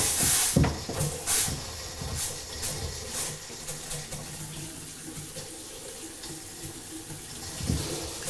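Water runs from a newly installed bathroom double-sink faucet during a remodel, a steady hissing splash into the basin with a few sharp knocks and clatters near the start and end.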